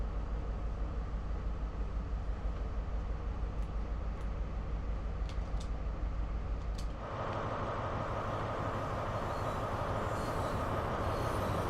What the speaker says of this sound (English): Another train turned up.